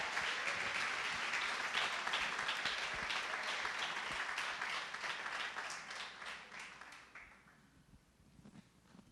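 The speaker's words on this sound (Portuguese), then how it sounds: "Dê uma salva de palmas a Ele" A church congregation claps together in dense, sustained applause that stays loud for several seconds, then thins out and fades toward the end.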